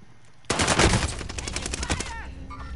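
In an online shooter video game, a sudden rapid stream of automatic gunfire bursts in close and loud, then thins out into scattered shots over the last second.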